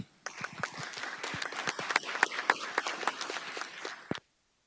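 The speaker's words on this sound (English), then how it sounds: "Give him a round of applause, please." A small audience gives a presenter a round of applause at a talk on accessible video captioning, a brisk patter of distinct claps that runs about four seconds and then stops abruptly into silence.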